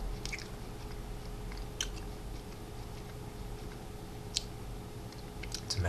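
Someone chews a crunchy, juicy Asian preserved fruit shaped like an olive, with soft, close, irregular crunches and a few sharper bites over a faint steady hum, no talking.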